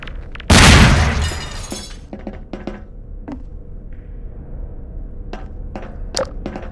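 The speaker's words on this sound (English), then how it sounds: "It's got a grenade!" A grenade blast in Half-Life 2 Episode 1 bursts loud and broad, then trails off into scattered debris clatter and faint in-game sounds.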